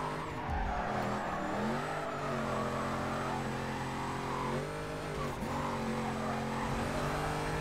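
Car drifting in the Need for Speed Carbon racing video game, a loud sustained engine whine with gear-shift pitch drops and steady tire squeal, no talk over it.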